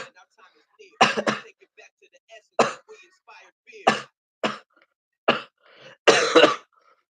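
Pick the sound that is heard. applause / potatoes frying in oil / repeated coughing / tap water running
repeated coughing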